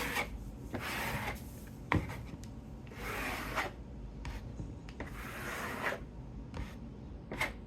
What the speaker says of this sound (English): And then we'll scrape both of these.